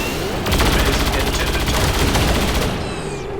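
Dense, rapid gunfire bursts in a turn-based strategy video game, a loud continuous rattle of shots lasting a few seconds before cutting off, with a voice speaking over it.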